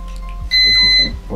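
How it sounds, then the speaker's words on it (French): A single sustained high electronic beep from an airsoft gearbox controller, an EFCS unit in an Ares Amoeba Pro Octarms, lasting about half a second, clear and close, over a faint low hum. "J'ai un bip, donc là je suis en safe semi-auto"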